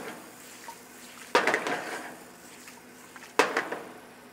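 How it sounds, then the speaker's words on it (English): Green beans seasoned with pecorino romano and sea salt are tossed in a pan twice, each toss a sharp clatter and rattle followed by a brief scraping tail, separated by quiet kitchen background. "We're going to toss it up a little bit."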